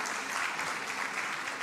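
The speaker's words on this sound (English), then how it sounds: "they need a round of applause" Applause from an audience at an event of talks with business leaders meant to inspire new startup ventures, a steady, fairly faint patter of clapping that holds through the short moment.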